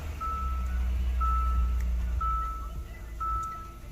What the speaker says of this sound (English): And so I'm just gonna turn the car on.